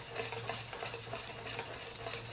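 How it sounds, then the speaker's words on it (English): A Coca-Cola cake mixture being whisked constantly in a pot, giving a continuous close rhythmic swishing and light metallic scraping over a low steady hum, with no talking. "I've got to whisk constantly here"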